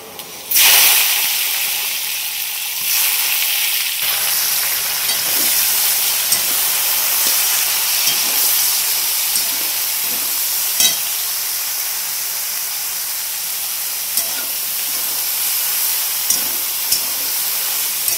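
Bitter gourd frying in hot oil with mustard seeds, cumin and garlic, giving a steady loud sizzle and hiss throughout, with faint scrapes of stirring and occasional small pops.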